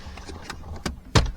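Plastic trim clips on a car console pop loose as the panel is pried out. A few soft clicks are followed by one sharp, close snap at the end.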